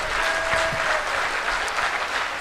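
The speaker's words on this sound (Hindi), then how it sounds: "एक बार तालियां और जोर से बजाइएगा फिर।" Loud, dense applause from a large audience at a Hindi poetry recital, steady and continuous throughout with a few sharper claps standing out.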